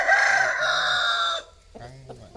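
A rooster crows loudly and close by in one long, strained call, then a quieter hen-like clucking follows.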